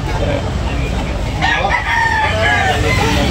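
Rooster crowing at a busy chicken market in Tabunok, one drawn-out crow rising over steady crowd noise and background chatter.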